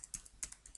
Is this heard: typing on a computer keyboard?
yes